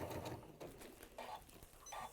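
A sewing machine stitches around the edge of a fabric wash bag in short bursts of needle hum, faint and close, with pauses between runs.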